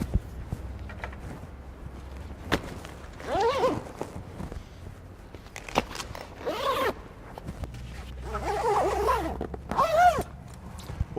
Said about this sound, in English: remove them and zip all the windows up